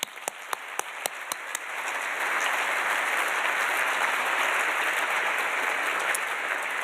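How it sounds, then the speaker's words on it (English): Audience applause at a 2024 SPH faculty and staff recognition celebration: a few scattered claps grow into full, steady clapping from a large crowd that holds at an even, loud level. "So we'll give another round of applause, please."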